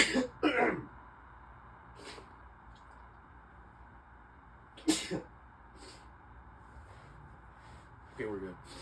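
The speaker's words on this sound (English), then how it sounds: "I have to sneeze." A person makes a sharp, sudden sneeze-like burst up close at the start, followed later by another abrupt burst and some throat noises. Quiet room sound fills the gaps between them.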